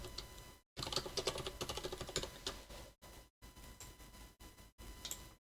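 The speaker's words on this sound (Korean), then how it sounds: "그 다음 타이핑도 칠게요" Someone types on a computer keyboard nearby, rapid clicking key strikes in bursts separated by short silent pauses, fairly quiet and with no talk.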